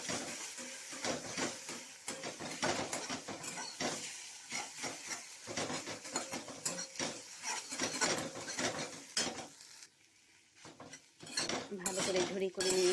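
Egg scrambled with a spatula in hot oil in a kadai: repeated scraping and clinking of the spatula against the pan over a steady hiss of frying, with a brief quieter gap near the end.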